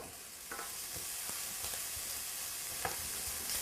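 Chorizo renders and sizzles in an oiled pan with a steady, close frying hiss, punctuated by a few brief stirring scrapes and pops.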